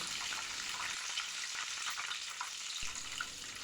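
Homemade butter simmering into ghee in a pan on a lowered flame, a steady close sizzle and fine crackle that runs continuously and evenly, with no speech.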